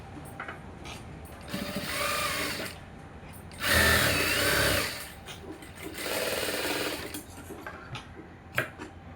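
A sewing machine stitching a lined blouse, running in three separate bursts of rapid mechanical whirring with quieter pauses between, close and fairly soft.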